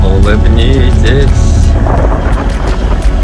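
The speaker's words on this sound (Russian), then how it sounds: "Так, начинает немножко накрапывать дождь." Light rain begins to drizzle during a boat trip toward Cat Ba island under a thundercloud, heard as a steady, loud wash of wind and water noise with a boat engine rumbling beneath, continuous throughout with no clear talk.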